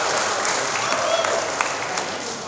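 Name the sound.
audience applause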